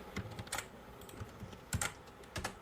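Someone types on a computer keyboard in short bursts, a handful of soft separate keystroke clicks spread over a few seconds, quiet and close with no speech.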